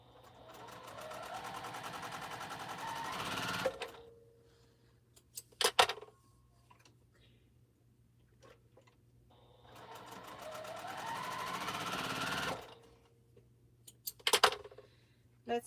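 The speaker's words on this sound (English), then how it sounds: "So I'm going to sew the other side of this so that I can save this half square triangle on the other side." A sewing machine stitches a quilt's half square triangle in two runs of rapid whirring, each speeding up and then stopping, with fabric handling clicks and taps between them. The sound is close and moderately quiet.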